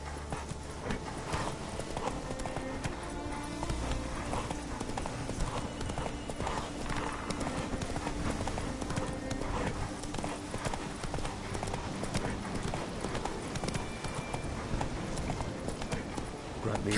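Roach the horse's hooves clip-clop briskly and continuously in The Witcher 3, a dense steady gait up close, with game voices and ambient noise mixed in.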